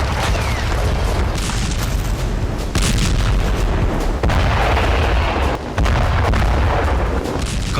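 Heavy bombardment in Gaza produces a continuous dense roar of deep booms and rumbling blasts that overlap with no clear pauses, loud and distorted throughout.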